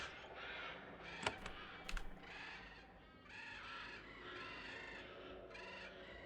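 Loud crows cawing repeatedly in the game Geneforge 2, harsh raspy calls overlapping in bursts with a couple of sharp clicks early on, over a low ambient background.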